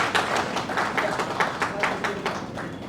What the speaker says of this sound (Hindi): तालियों के साथ उनका अभिनंदन करने से भी आप सभी।